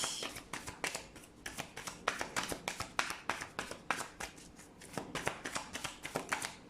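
Playing cards are shuffled in a steady run of crisp, rapid riffles and snaps, close and fairly quiet, with no talking over them.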